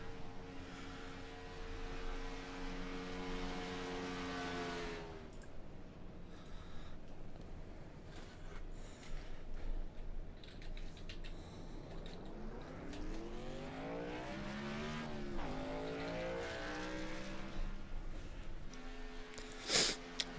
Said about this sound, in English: Last car's rolling out.